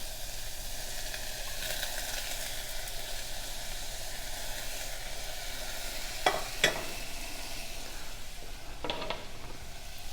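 Potatoes go into a hot pan with celery, a steady broadband sizzle of frying that carries on throughout, with a few brief sharper pops and clatters near the end and no talk.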